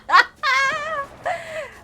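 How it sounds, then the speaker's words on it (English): A dog standing at a house window gives three short, high, whiny barks or yips in under two seconds, with gaps between them and no other sound around them. "He's just standing at the window barking."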